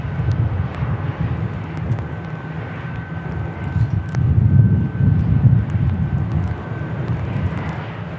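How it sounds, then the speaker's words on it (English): EasyJet airliner going around near Manchester Airport in stormy weather, a distant, continuous jet engine roar climbing away from the approach, swelling slightly midway, with wind buffeting the microphone. "Oh, that was his first attempt for that EasyJet. Coming away from the approach."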